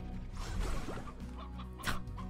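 A video game chicken in Slime Rancher clucks over steady background game noise, a brief cluck sequence ending in a louder squawk near the end.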